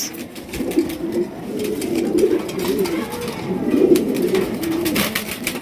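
Pigeons of large fancy breeds, including white birds, coo steadily in a low rolling burble, close and continuous, with faint voices in the background.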